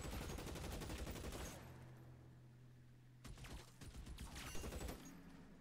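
Rapid bursts of gunfire in the video game L.A. Noire, dense crackling volleys that stop briefly and then resume in heavy overlapping shots, loud and continuous with no voices over them.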